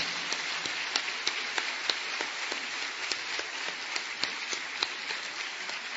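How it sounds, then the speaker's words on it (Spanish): A church congregation applauds together, a steady broad wash of many hands clapping with sharper individual claps popping out at irregular intervals, moderately distant and filling the whole stretch without speech. "Dale un aplauso al Señor, hermano."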